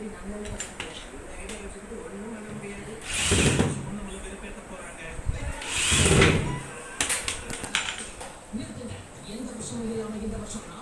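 Screws go into a washing machine's door gasket and door switch during a repair. Two distinct whirring screwdriver bursts stand out over a low, busy background with some talk, followed by a few lighter clicks and rattles.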